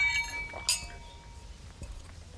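Glasses clink once in a toast, a bright ringing chime that fades over a faint background murmur.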